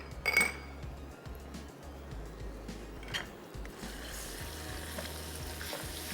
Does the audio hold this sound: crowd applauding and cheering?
no